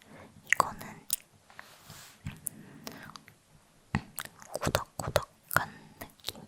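Close, soft chewing of a chewy, non-crunchy chocolate bar in an ASMR eating session, with wet mouth sounds and bites in irregular bursts alongside quiet whispering.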